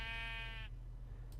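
Minecraft sheep giving a single short bleat, a buzzy harmonic-rich call lasting about half a second over a low background hum, close and clear with no speech.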